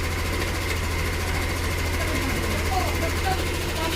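A Yamaha Nmax V2 scooter engine idles steadily after starting, a constant low mechanical hum with a faint rattle, near and unchanging throughout.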